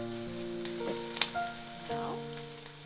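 Vegetables sizzle and fry steadily in a pan for chilli garlic noodles, a close continuous hiss with a few faint clinks of stirring.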